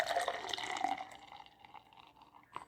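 Czech Pilsner beer pouring into a glass, a soft continuous trickle and fizz that thins out and fades, with a small clink near the end.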